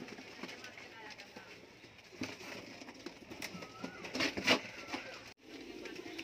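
Kamagar pigeons coo softly at a pigeon sale among other birds, partly under people talking nearby, with a brief flutter-like burst near the end.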